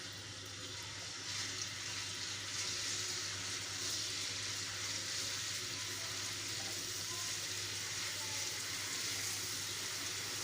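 Garlic ginger paste fries in a pan with a steady, broad hiss and sizzle at moderate loudness, holding constant throughout with no talk.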